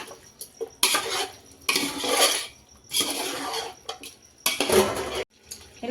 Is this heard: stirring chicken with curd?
yes